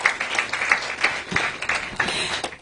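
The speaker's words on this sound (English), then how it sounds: "Another round of applause for them," A crowd at a Lagos press conference gives a round of applause, moderate uneven clapping that rises and falls over a couple of seconds.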